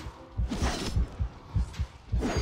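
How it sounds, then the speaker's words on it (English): A low, thumping heartbeat from the RIFT video game pulses steadily at close range, about two beats per second, with a soft airy rush in the background. "Yeah, I hear my heart beating."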